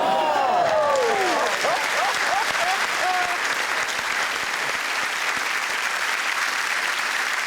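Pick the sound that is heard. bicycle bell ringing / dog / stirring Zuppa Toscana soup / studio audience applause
studio audience applause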